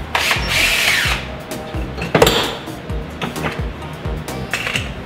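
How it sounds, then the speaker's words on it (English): DeWalt drill driving a 6-inch bit to bore a hole, with loud close motor whine bursts and rattling, knocking impacts, stopping and restarting over a few seconds. "The 6-inch drill bit. We're gonna test this DeWalt."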